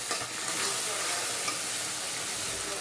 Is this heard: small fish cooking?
yes